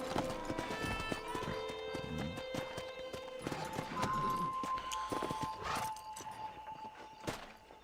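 Horse hooves clip-clop at a walking pace in the video game Red Dead Redemption, with music playing throughout and occasional clicks and swooshes.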